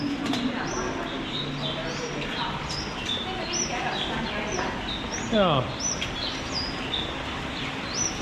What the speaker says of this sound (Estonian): Need on mingid linnud.